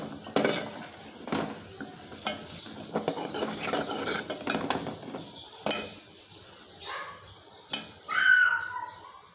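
Garlic, roasted chana dal and grated coconut stirred together in a pan, with scraping, clinking spoon strikes and a light sizzle in irregular bursts, close and fairly quiet, no talking.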